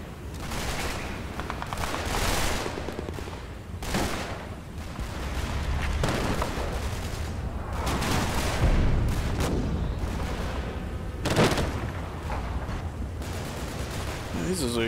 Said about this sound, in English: That's what a dual heavy machine gun does.